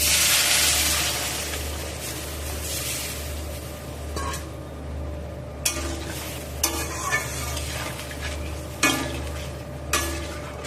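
Spices stirred in a pan with water just added for a mango fish curry, a steady close simmering sizzle with occasional scrapes and clinks of a utensil against the pan.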